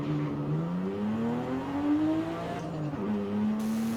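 Toyota Soarer with a 1J inline-six in Forza Horizon 5 accelerates through the gears, its engine note climbing steadily, dipping at a shift, then pulling again, up close and alone without voices.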